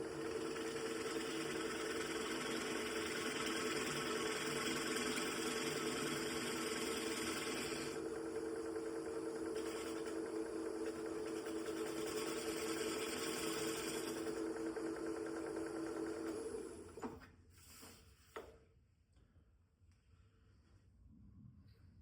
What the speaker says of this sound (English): I'm going to do a little bit of a shear cut here with my shear scraper.